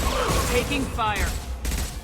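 Weapons fire in battle in Mass Effect 2 crackles as a dense fusillade of shots, continuous and fairly loud, with game voice effects over it.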